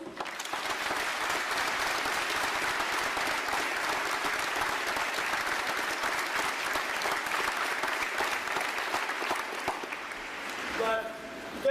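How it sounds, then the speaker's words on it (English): Long, steady applause from the audience at a Naval ROTC boot camp graduation ceremony for the awardees, a thick sustained roar of many hands that holds for seconds before thinning out near the end. "Ladies and gentlemen, a round of applause for our awardees."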